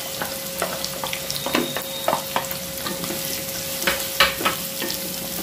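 Onions fry in a pan for a mutton curry with a steady close sizzle, broken by repeated light scrapes and clinks of a stirring spoon.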